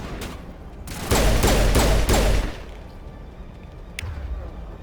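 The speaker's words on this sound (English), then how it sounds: "Oh, where are they shooting at?" A loud burst of rapid gunfire in the video game Mass Effect Legendary Edition, with several shots in quick succession, then quieter ambience and a lone later shot.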